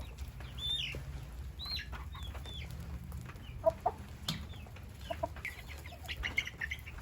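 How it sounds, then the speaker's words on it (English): Chickens cluck and murmur softly close by in a crowded coop, with a rooster's brief calls and occasional flapping, over a quiet farmyard background. "This rooster is wanting to attack me."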